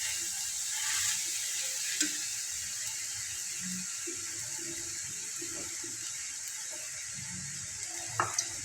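Soya bean biryani is stirred gently in a pot over a low sizzle, with soft scraping and occasional clinks of the spoon against the pot, quiet and close, no talking.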